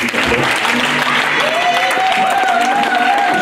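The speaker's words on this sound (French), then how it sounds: "Est-ce qu'on peut acclamer le Seigneur Jésus?" A church congregation applauds and cheers for the Lord, a dense, steady wash of clapping filling the room, with a sustained tone rising through the latter half.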